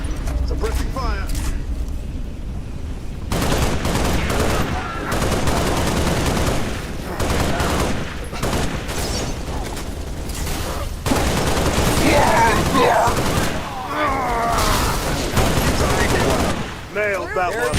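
Sustained suppressing gunfire from a Halo: Reach battle against the Covenant, dense bursts of automatic weapons and rapid shots rolling on without pause, loud and close, with radio-style voices talking over the firefight.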